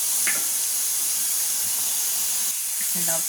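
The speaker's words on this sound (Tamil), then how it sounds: "நல்லா கொதிக்குது பாருங்கள்" Steady hiss of chicken gravy bubbling and steaming in a covered pan, with a few faint clinks and soft sounds over the top.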